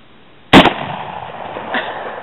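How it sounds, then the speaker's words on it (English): A Marlin 336Y lever-action rifle fires once at a 2-liter bottle outdoors, a single sharp loud crack followed by a short decaying tail and a faint second thump. "Let's go over and shoot the other 2-liter."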